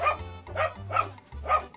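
A trained dog barks four times in a quick, uneven series of short, close, fairly loud woofs with brief whimpery edges.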